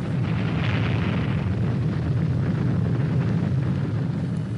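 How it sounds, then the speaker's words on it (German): A deep, rumbling explosion roar that stays loud and sustained, a dense low boom rolling on without a break. "Eine Explosion von verheerendem Ausmaß."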